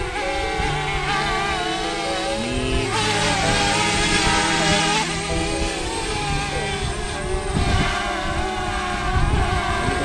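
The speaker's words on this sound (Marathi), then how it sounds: "आम्ही पाण्याच्या लेवलनी पाठवला आहे ड्रोन." A camera drone flies low over water near Vaitarna Dam, its motors producing a steady, loud whirring buzz with shifting pitch that runs for the whole stretch, with faint voices at times.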